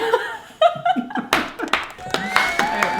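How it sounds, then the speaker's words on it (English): Studio audience applause for guests on a talk show, loud clapping mixed with laughter and chatter that rises in bursts after a moment of speech near the start. "Warm round of applause."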